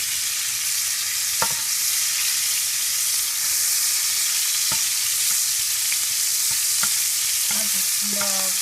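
Smoked herring frying in hot oil until crispy, a steady loud hiss and crackle of sizzling with occasional sharp pops and faint clinks.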